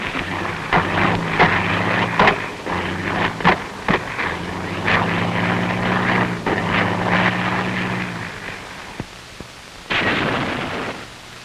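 Aircraft engines roar during WWII air attacks on ships unloading at the Bougainville beachhead, a loud, continuous drone with steady low harmonics, sharp bursts throughout and a final surge near the end.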